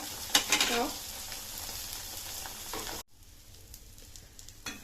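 An egg omelette sizzles in a pan just after being flipped, a soft steady frying hiss with a brief scrape near the start, then quieter crackling after a short break.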